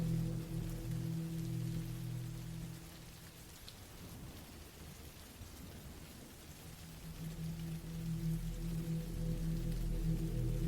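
Steady rain falls in the woods at night, a dense, even patter with a low rumble beneath it that fades in the middle and swells again toward the end.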